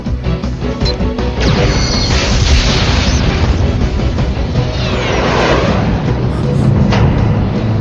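A Quadra Blaster weapon fires and explodes in an Ultraman Nexus battle scene. Heavy booms and crashing blasts roll on loudly and continuously, with no speech over them.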